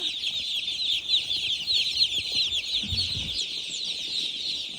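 Broiler chickens cluck softly and steadily in a rearing pen, with a constant high hiss of background noise and a few brief low rustles.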